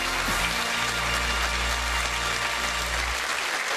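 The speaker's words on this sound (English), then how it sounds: "How about a round of applause for Jack?" A game-show studio audience applauds a departing contestant in a steady, dense wash of clapping that runs loud and unbroken before tapering off near the end.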